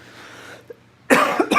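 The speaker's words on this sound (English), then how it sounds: "I cannot breathe. I'm coughing." A person coughs twice in quick, harsh bursts, close and fairly loud, after a quiet stretch with faint background noise.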